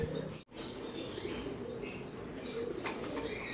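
Pigeons flutter onto a loft landing board and go in, with a brief burst of wingbeats early, soft cooing and scattered chirps close by at low volume.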